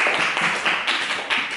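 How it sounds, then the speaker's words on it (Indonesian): A classroom of students in Indonesia claps for a student group, a brief burst of scattered hand claps at moderate volume. "Tepuk tangan buat kelompok 2."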